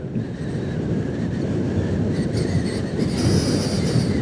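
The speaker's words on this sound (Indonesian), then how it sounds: "Bakalan masuk ke mikrofon nih kayaknya suara anginnya" Strong wind roaring into a microphone on a beach at Pantai Pacar, Tulungagung, a loud continuous low rumble with a faint high whine, steady throughout and no voices.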